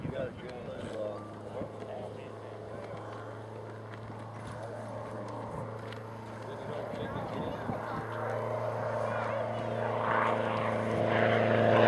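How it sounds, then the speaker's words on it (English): A full-scale propeller aircraft flies past at an RC club fly-in, its engine drone rising steadily louder toward the end under crowd chatter and nearby voices. "Full scale flyby."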